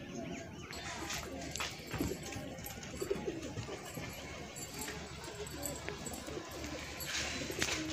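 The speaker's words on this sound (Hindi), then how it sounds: "और ये कबूतर अभी उड़ा रहे हैं।" Pigeons cooing in a rooftop coop among newly arrived birds, soft low coos repeating in a busy, noisy outdoor background with faint other animal sounds.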